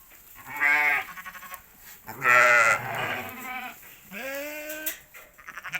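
Sheep bleat while being fed oats on a farm: three loud, wavering bleats in quick succession, close by, with quiet pauses between them.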